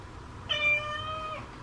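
A cat gives a single clear, drawn-out meow of about one second, close by in a quiet indoor room.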